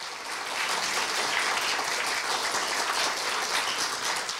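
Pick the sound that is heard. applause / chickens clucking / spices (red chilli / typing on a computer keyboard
applause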